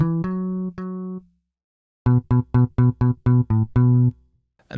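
Loud sampled bass guitar notes from a Kontakt sample library: three sustained plucks, a pause, then a quick run of about eight punchy, evenly spaced notes, played close and clean.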